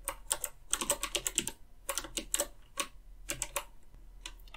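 Rapid clicking keystrokes on a computer keyboard as a terminal command is typed, close and crisp, in short bursts with brief pauses between them.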